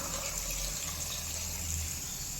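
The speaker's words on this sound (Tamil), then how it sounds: "தண்ணி ஊற்றிக்கலாம்" Water is poured into a pot of one-pot sambar with turmeric powder, making a short, steady, close gushing pour with no voices.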